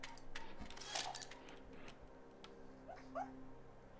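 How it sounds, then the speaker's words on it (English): A sleeping dog makes a few faint, high little whimpers and yips, short soft squeaks spaced apart over quiet background hum. "My dog's making little adorable noises and it sleeps again"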